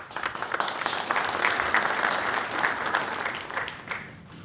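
An audience applauds at an opening-remarks session, a full wash of many hands clapping that swells, holds steady and tapers off toward the end, heard alone without talk.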